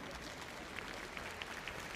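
Faint, distant arena applause for figure skater Tatiana Malinina after her free skate at the 2001 NHK Trophy, a continuous soft patter of many hands.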